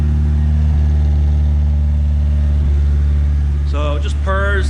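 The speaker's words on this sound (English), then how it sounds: "My car kind of has a high idle at cold start, so it's a little bit loud right there" A car engine with a straight exhaust sits at a high cold-start idle, a loud steady raspy drone with a brief blip of throttle rising near the end.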